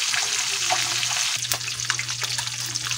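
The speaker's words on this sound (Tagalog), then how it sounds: "babalik na rin na natin yung ating pinipritong isda" Tilapia fish frying in a pan at home, a steady close sizzle and crackle of hot oil with a low hum running underneath, no voices.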